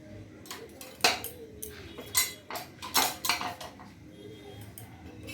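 A metal utensil spreads oil across a hot tawa, making a run of sharp, irregular clinks and short scrapes close by, with quiet pauses between strikes.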